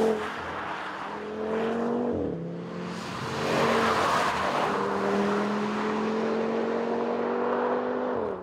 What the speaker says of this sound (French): Quelques tours du circuit Jean-Pierre Beltoise vont nous permettre de mieux départager les deux autos.